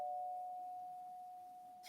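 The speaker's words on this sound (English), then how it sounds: "I have a doorbell ring, and I just get scared or chills because I'm not going to answer the doorbell" A single electronic doorbell chime rings out as one sustained, fairly clean tone that slowly fades, heard alone in a quiet room.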